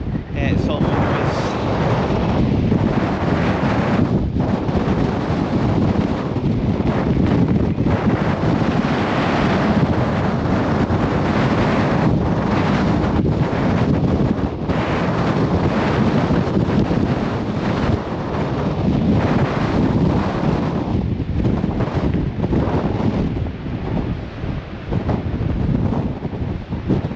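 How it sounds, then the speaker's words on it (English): Strong gusts sweep the Blackpool promenade beside the sea. Loud, constant wind buffets the microphone through the whole clip, with only small swells in strength, and voices are faintly buried beneath the roar. "It's blowing like 90 mile per hour winds"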